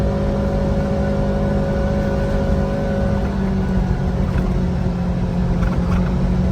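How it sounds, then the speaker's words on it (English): A Kawasaki Ridge side-by-side with an aftermarket Assassins V2 clutch kit revs hard while climbing a steep hill, its engine droning loud and steady up close as the tires spin. "Let me gun it. Tires are spinning. This is a steep hill."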